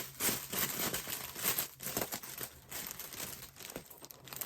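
Close crinkling and rustling of a bag as its top is tied with twine and its sides are taped, steady handling noise throughout with no voices.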